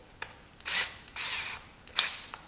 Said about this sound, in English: take a little fine drill bit, smaller than your sheetrock screw, and drill through the lath through this hole